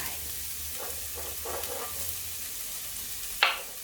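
Onion stir-frying in a hot pan for pad thai, a steady close sizzle with soft scraping strokes of a spatula and a sharp clink of metal near the end.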